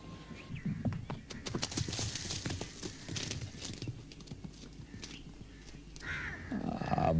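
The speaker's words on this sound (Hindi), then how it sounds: "घोड़ा जरा संभाल के दौड़ाया करे" Hooves clatter in quick, uneven clip-clops as a horse runs over ground, moderately loud, with a whinny-like call near the end and some rustling background noise.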